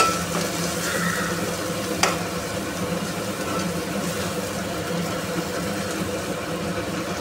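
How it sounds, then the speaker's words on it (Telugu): Spice powder frying with onions in a pan gives a steady, moderate sizzle and hiss, with a brief knock near the start and no one talking. "ఒక 1 minute ఫ్రై అవ్వనిద్దాం."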